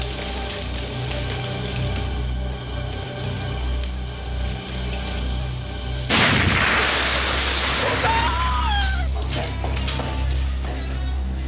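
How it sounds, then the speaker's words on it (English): A chemistry beaker bursts in a school science room, a sudden loud broadband blast partway through, followed by noisy rumble and scattered high tones over a low background hum. "He ran to get the beaker outside before it exploded."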